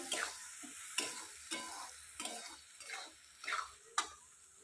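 Spices with turmeric being stirred and fried in a pan, a faint, steady sizzle broken by about eight rhythmic scrapes and knocks of a spoon against the pan.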